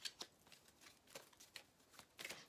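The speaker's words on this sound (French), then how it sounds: "Alors, on va mettre une autre carte dessus." Tarot cards are handled, with one card laid on top of another, producing faint, soft papery slides and flicks in a few light bursts with no talking.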